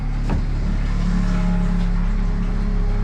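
A boat motor left running on a 2017 Hewescraft 180 Sportsman, heard close as a loud, steady engine drone with a low hum and a slight rise in pitch, with no voices over it.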